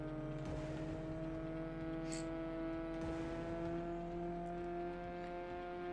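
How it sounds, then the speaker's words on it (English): A Drift Tech car in a racing video game gives off a thin, whiny engine drone like a little RC car. The steady harmonic hum runs unbroken for the whole stretch at moderate level, with a few faint squeaky transients. "It sounds like a little RC car, and that's fine."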